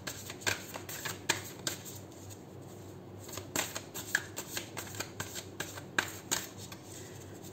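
Tarot cards being shuffled by hand at close range, a run of crisp riffling snaps and flicks in an uneven rhythm, with no talk over it.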